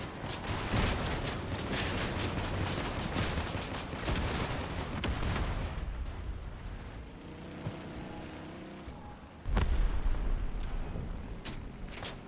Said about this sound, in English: Rocket, shoot!